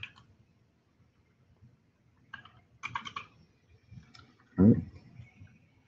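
Someone types on a computer keyboard during a Node.js coding workshop: quiet, sparse keystrokes in short bursts with pauses, ending in one heavier key thump, close up and with no talking.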